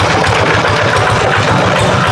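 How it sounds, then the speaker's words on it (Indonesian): A farm tractor engine runs steadily on a roadside in rural Java, heading home from the rice fields, with a continuous low chugging rumble throughout and no talk. "Ini ada traktor sudah perjalanan pulang."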